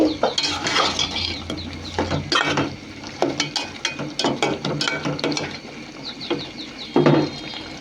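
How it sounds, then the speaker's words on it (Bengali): Mutton being stirred and fried in a pan for a potato mutton curry, close scraping and clattering of a utensil against the metal pot in quick irregular strokes over a low sizzle, no talking. "আমি মাংসগুলো ভালোভাবে কষিয়ে নিচ্ছি।"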